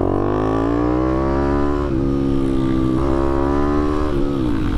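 Loud, close engine of a YCF 190 Daytona supermoto revving up through the gears, pitch rising then dropping at each of several quick shifts, with no voices over it.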